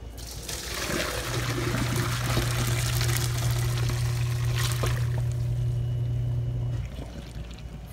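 Boiled water pours steadily from a pot as it is drained, a continuous close splashing rush that runs for several seconds under a low steady hum, then cuts off and leaves quieter background.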